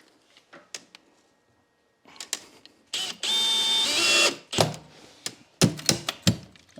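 A power drill whirs for about a second while driving a screw through an aluminium garage door seal into timber, close up, framed by clicks, knocks and handling sounds before and after.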